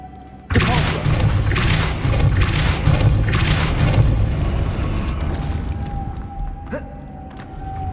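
The Depulso spell goes off in Hogwarts Legacy, a sudden loud forceful blast that bursts in and rumbles for several seconds before fading into quieter game ambience.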